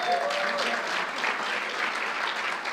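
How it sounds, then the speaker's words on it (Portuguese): A church congregation claps together in a dense, steady wash of applause that holds evenly for a few seconds. "Dá um aplauso ao Senhor."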